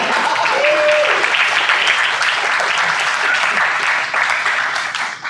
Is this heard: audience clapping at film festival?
yes